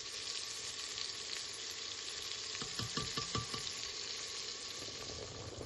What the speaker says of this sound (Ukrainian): А в цю олію е, підуть у нас е, томати різані, томат паста та хріса.